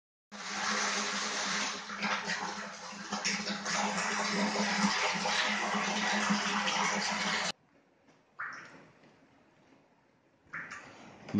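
A one-horse sump pump drains 50-gallon barrels of a water cistern system, giving a steady loud gushing, rushing water flow for about seven seconds that then cuts off, followed by brief quieter splashes.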